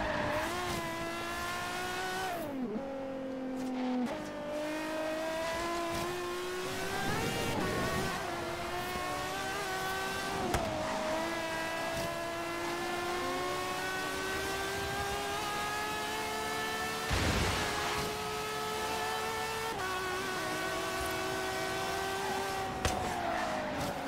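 A Ferrari race car in Forza Horizon 3 revs high and shifts through gears, with engine pitch climbing and dropping repeatedly and occasional tire squeals, loud and continuous with no talking.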